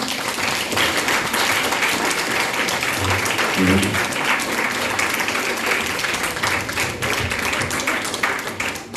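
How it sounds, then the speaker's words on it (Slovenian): An audience applauding performers at a Mother's Day event, dense sustained clapping filling the hall throughout, with a brief voice surfacing midway. "Najprej vas prosim za še en aplavz za vse naše nastopajoče."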